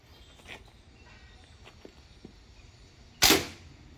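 A Diana Mauser K .177 airgun fires a German lead pellet into a car door, giving one sharp, loud crack with a short decaying tail after a few seconds of quiet handling noise.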